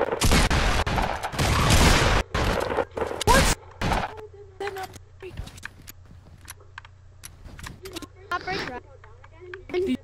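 Gunshots fired at a trap in Fortnite Battle Royale, a loud cluster of sharp rapid shots in the first few seconds, followed by quieter scattered clicks and game sounds while a person talks.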